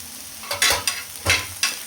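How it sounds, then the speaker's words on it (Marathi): Garlic crackles in hot oil, with several short, sharp bursts of sizzling as it is stirred, close by. "लसूण आपला चांगला तळू द्यायचा आहे अगोदर."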